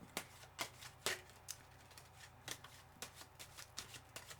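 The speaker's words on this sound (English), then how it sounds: "as I shuffle for a clarifier" Soft repeated riffling and snapping of tarot cards being shuffled close by, in irregular bursts over a faint background hum, with no talking.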